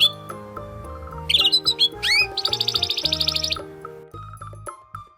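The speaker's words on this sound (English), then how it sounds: "Canary." A canary sings in bright, rapid chirps and trills set over a steady music backing, with a dense warbling run in the middle and short tweets toward the end.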